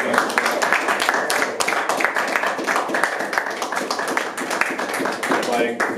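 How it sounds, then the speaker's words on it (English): Audience clapping at a panel discussion event, a busy burst of many hands at close range, continuing steadily with voices talking over it. "let's do a little applause for Harrison for putting this fun together"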